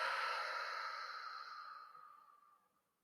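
A single slow, breathy exhale during a relaxation breathing exercise for falling asleep, close and soft, trailing off gradually into quiet over about three seconds.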